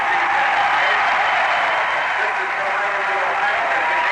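A football game crowd at a stadium breaks into sustained applause and cheering, a steady wash of clapping and voices that holds loud and even throughout.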